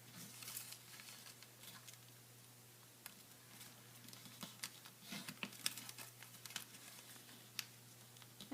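Origami paper being folded by hand, soft intermittent crinkles and creases, quiet and close, with scattered sharper crackles and no talking.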